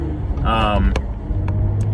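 A 2012 Audi S4 with a manual transmission drives along, its engine tone rising briefly in pitch over a steady road rumble, with someone talking through part of it.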